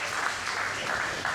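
A bowling alley crowd at a tournament claps and cheers after a strike, a brief dense burst of applause, fairly loud and steady throughout.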